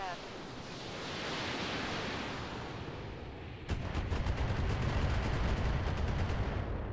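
Mech weapons firing in the Roguetech BattleTech mod, a hissing roar that turns into a rapid string of loud, close bursts, laid over a dense rushing background.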